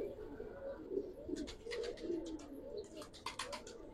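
Giribaz pigeons of an old breed coo repeatedly at close range, a low rolling murmur that rises and falls over several seconds, fairly faint, with light chirps and no talking.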